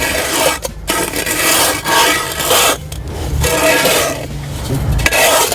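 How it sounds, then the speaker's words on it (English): A screed is pulled back along rails over paving sand, giving a steady, close, gritty rubbing scrape in long strokes with a few short breaks, with no talking. "And we just pull that screed back along the rails."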